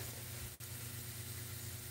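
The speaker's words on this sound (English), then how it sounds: "Alright, that's frying." Mussels being cooked in a pan, a faint steady sizzle with low background hum and a brief dip partway through.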